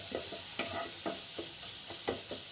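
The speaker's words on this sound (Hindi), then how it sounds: "इसको हम इस तरह से चला भी लेते हैं, ताकि यह थोड़ा घी में फ्राई भी हो जाए" Grated carrots fry in hot ghee for kesariya halwa, a steady high sizzle with rhythmic scraping strokes of a spoon stirring the pan roughly every half second.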